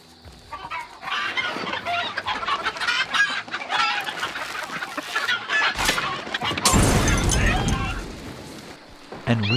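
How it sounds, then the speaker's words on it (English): Chickens in a coop in the video game Hunt: Showdown cluck and squawk continuously and close by, with a louder flurry of agitated calls near the end. "Chickens in a coop."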